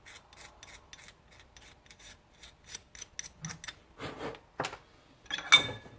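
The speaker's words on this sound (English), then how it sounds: "scrape some of that junk off" Scraping crud off a Yamaha Bear Tracker 250 carburetor part, with a series of quiet, rhythmic rasping strokes close by, followed by a few louder scuffs and rubbing noises.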